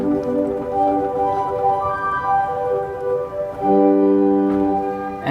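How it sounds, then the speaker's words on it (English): Pipe organ in Århus Cathedral sounding its principal flute and bordun stops together, a soft, steady flute chord with sustained tones that shift pitch midway, alone in a reverberant church. "I played the sound called principal flute and bordun. That's 2 flute stops."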